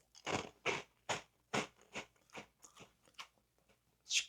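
Crunchy honey twisted doughnut (kkwabaegi) bitten and chewed close up, a series of about nine sharp, dry crunches spaced roughly half a second apart, tapering softer before one last loud crunch.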